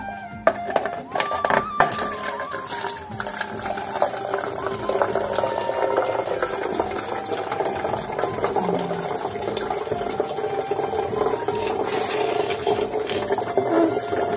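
Water runs steadily from a household source, a continuous moderate splashing stream with a few knocks and clatters nearby.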